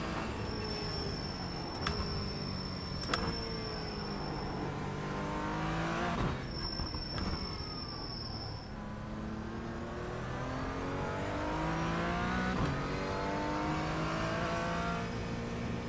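A race car engine in a racing simulator game revs up and down through the gears, slowing for tight 90-degree corners, steady and fairly quiet throughout with a few brief clicks and a faint tone.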